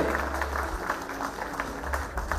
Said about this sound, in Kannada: ಎಲ್ಲಿ ಚಪ್ಪಾಳೆ ನಿಮ್ದು, ಬರ್ಲಿ